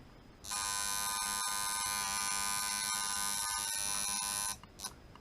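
A steady, loud electric buzz from a tattoo machine with rubber band tension runs continuously for about four seconds, then cuts off, followed by a brief faint rattle.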